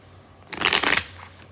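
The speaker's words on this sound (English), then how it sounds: "let's get a couple more shuffles here." A quick riffle of tarot cards being shuffled, a dense papery burst lasting under half a second, close and fairly loud in an otherwise quiet room.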